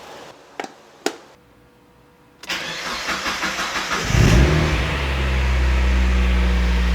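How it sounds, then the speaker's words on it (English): A Mazda Miata engine starting after a fuel pump replacement: a few sharp clicks, then a quiet pause, a rapid rhythmic cranking, and the engine catching and settling into a steady, loud idle, close by. "go ahead and try and start the car"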